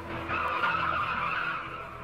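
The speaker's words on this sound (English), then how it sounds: "the tires would not be making the sounds that they're making because the pavement is wet" Car tires squeal and skid on wet pavement on a 1978 horror film soundtrack: one sustained screech that swells for about a second and a half, then fades, with no talk over it.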